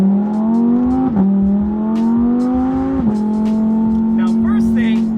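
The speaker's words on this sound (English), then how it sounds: "His exhaust sounds incredible, very droney" A loud, droning Audi R8 V10 Plus exhaust holds a steady, deep tone, dipping briefly twice as gears change, with a constant roar throughout.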